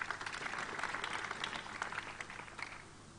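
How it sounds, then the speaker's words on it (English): An audience claps at a basketball gathering in Kenya, a dense, steady patter of many hands that gradually thins and fades toward the end, with no talk over it. "clap for yourselves"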